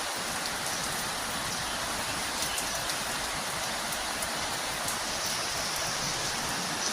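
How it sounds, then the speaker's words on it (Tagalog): Heavy rain pours steadily at a mountain farm hotel in Mabitak as a dense, continuous hiss with scattered drops pattering nearby, no voices. "Sobrang ulan dito. Maghapon tong ulan na to sigurado."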